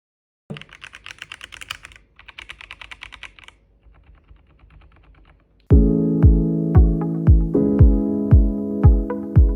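Quiet rapid clicking of keys in short bursts, then much louder, ringing keystrokes on a Logitech K98M wireless gasket-mount mechanical keyboard tapped in a steady rhythm.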